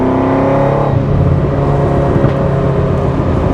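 A black 1978 Ferrari 308 GTS with individual throttle bodies and fuel injection revs hard up close, a loud, continuous engine roar that climbs and shifts in pitch through the whole stretch.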